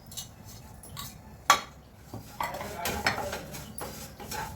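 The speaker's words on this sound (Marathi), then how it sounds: "आपण शेवया भाजूया पूर्ण शेवया भाजून घेऊ" Vermicelli roasting in a pan with ghee for kheer, stirred with a utensil that scrapes and clinks against the metal, one sharp clink early, then soft rustling stirs at close range.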